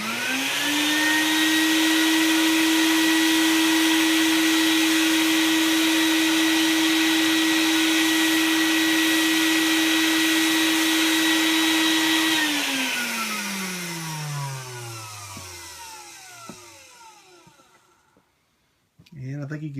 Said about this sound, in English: now all I'm going to do is turn on my little shop vac here and see how it looks.